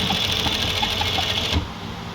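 A sewing machine stitches the neckline of a kameez with a fast, even mechanical chatter of the needle up close, running steadily before stopping abruptly near the end.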